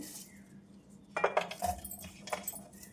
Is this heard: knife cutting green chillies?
yes